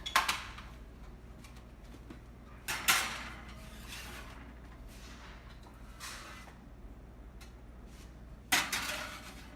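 A baking pan of macarons slid into a preheated oven: a sharp metallic clank and rattle at the start, another near three seconds, then softer clinks and a final thud as the oven door shuts, all close and without talk.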